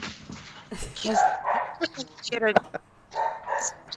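A small puppy yips and whimpers in short bursts amid lively conversation, the high, thin cries popping up between overlapping voices.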